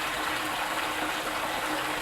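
Lukewarm tap water gushes steadily into a kitchen sink bowl, a continuous close hissing splash with no talk.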